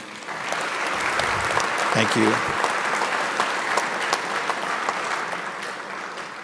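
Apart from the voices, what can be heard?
audience applause at graduation ceremony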